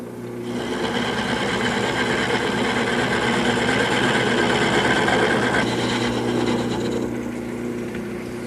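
A wood lathe turns a bed post while a gouge cuts, giving a steady, close, continuous whirring hum with a faint cutting rasp that holds evenly throughout, with no talk.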